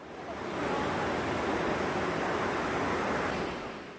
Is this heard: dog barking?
no